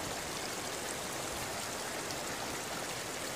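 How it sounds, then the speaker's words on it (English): Natural spring water flows steadily outdoors on its way down toward the sea, a close, even rushing wash with no pause or talk. "This is a spring. This is actually spring water."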